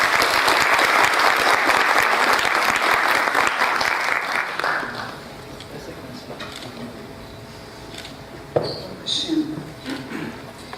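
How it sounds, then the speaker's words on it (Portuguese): Audience applause at a formal Brazilian heraldry and humanities awards ceremony, a thick wash of clapping for about five seconds that fades out, followed by quiet room noise, a faint voice and a few small knocks. "Uma salva de palmas"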